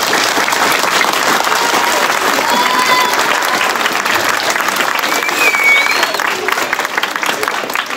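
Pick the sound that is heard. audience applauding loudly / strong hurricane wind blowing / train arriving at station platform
audience applauding loudly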